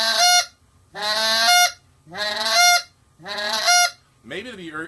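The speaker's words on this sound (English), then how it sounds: "Once you get the sloppy honk" Five loud, sloppy honks blown on a goose call, each a raspy, reedy blast of about half a second to a second, separated by short silent gaps, with the last one bending in pitch.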